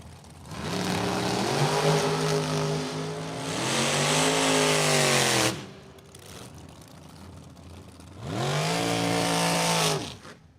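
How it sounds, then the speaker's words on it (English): An S&W dragster at a drag racing event roars loud and close in two long engine bursts that rise and fall in pitch, with a quieter idling gap between them. No one talks. "Get on Heather Boyko's S&W dragster, dialed"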